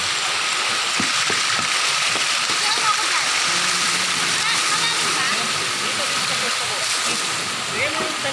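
Steady broadband rush of Balite Falls, water pouring and splashing continuously near the listener, with no clear breaks over the whole stretch.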